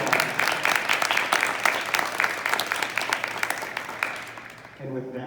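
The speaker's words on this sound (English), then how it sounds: "Let's give our team a round of applause." Audience applause at a school celebration for a state champion cheer team, dense clapping with sharp individual claps standing out, fading toward the end as a voice begins speaking.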